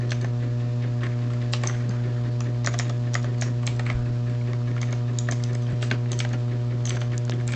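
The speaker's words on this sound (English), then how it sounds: "Let's just type select count" Continuous rapid clicking of a computer keyboard as a query is typed, close and steady with uneven bursts of keystrokes over a constant low electrical hum.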